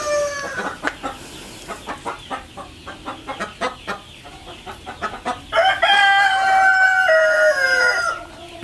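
A poultry flock of about 150 hens on a farm clucks in a steady run of short calls, then a rooster breaks into a loud, drawn-out crow close by, with no talking.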